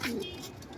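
Pigeons at a rooftop pigeon-flying gathering in Ain Shams, Cairo, give a brief, soft low coo in the foreground with faint bird calls behind, lasting under a second.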